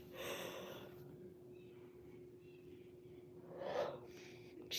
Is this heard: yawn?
yes